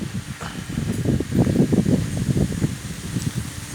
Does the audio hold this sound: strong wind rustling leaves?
yes